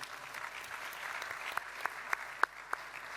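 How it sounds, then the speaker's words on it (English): Audience applause at a panel event on epidemic preparedness, a steady wash of clapping from a seated crowd with a few sharper individual claps standing out near the end, moderately quiet and without talk. "Let's give another round of applause to President Johnson."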